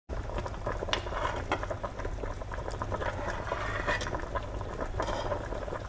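Chicken ginseng soup boiling in a pot, a steady close bubbling and popping that runs without pause for the whole stretch, with no talk over it.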